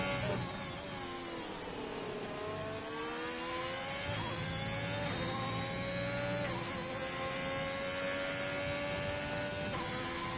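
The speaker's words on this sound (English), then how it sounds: "Getting lapped by several cars now." Several F1 2021 race cars sweep past one after another in the game at Bahrain, their high-revving engines whining and shifting in pitch over a steady, loud engine drone.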